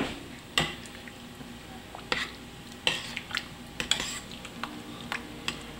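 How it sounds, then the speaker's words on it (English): A spoon stirs venison chili with meat and vegetables in a pot, making quiet, irregular scrapes and soft clinks against the metal, with a faint sizzle underneath. "Just go ahead and stir all this up."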